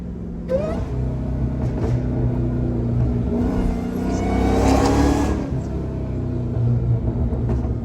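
A Dodge Hellcat muscle car engine rumbles loudly nearby, revving up into a rising throaty roar, then settling back to a deep burbling idle from the factory exhaust, still cold.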